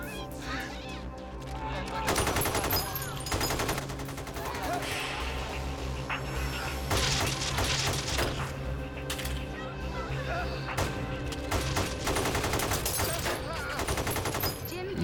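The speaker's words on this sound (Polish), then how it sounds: "Odgłosy wystrzałów nie są efektami dźwiękowymi, są prawdziwe." Rapid bursts of real gunfire from the North Hollywood shootout crackle repeatedly, some close and sharp, others in quick volleys, with a voice talking over parts of the noise.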